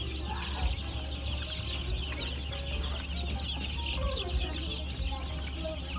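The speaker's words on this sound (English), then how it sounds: "here's some baby chickens" Baby chickens and turkeys at a farm store in Lancaster County, Pennsylvania, cheep and cluck in a continuous dense chorus of high peeping over a low background hum.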